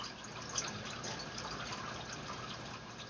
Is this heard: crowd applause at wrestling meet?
no